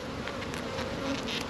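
Honeybees buzz steadily and up close over an open hive frame laden with pollen, honey and nectar, a dense continuous hum with no voices.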